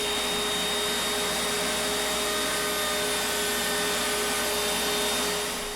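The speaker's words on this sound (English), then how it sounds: "the vacuum is so strong there that it pulled it right into the cutter" Steady, loud roar of a strong shop vacuum doing dust extraction beside a wood router, a continuous whooshing hum with a faint tonal whine and no breaks or talk.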